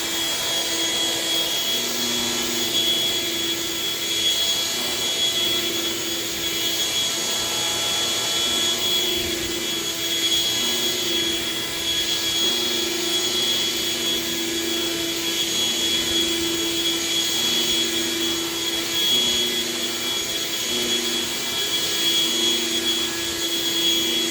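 A vintage collector's vacuum cleaner runs in carpet mode with its brush roll spinning, giving a steady, loud motor whine with a constant hum and no pauses.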